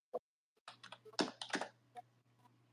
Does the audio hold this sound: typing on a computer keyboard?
yes